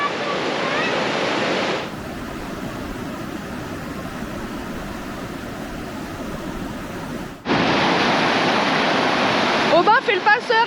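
A mountain river in a remote Caucasus valley of Georgia rushing past a flimsy footbridge, a loud, steady roar of flowing water up close that dips quieter in the middle, with voices talking near the end.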